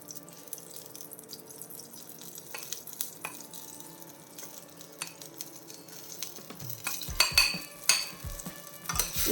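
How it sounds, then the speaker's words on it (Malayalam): Wheat flour is stirred into just-boiled water with the handle of a ladle, starting with faint quiet scraping and building into louder, rapid clattering stirs near the end. "എന്നിട്ട് ഈ തവിയുടെ ഈ കണ ഉണ്ടല്ലോ, ഇത് വെച്ചിട്ട് ഒന്ന് ഇളക്കി കൊടുക്കാം"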